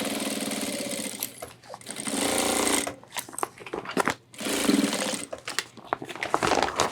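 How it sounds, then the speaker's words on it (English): A sewing machine stitches across the rolled top of a homemade ultralight 30L hiking backpack, running in loud bursts with brief pauses as the bag is turned. "our next step is we're going to do a stitch all the way across it"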